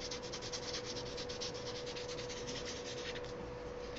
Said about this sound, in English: I'm just kind of rubbing off the excess.